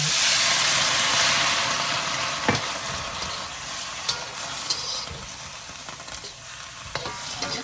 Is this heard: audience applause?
no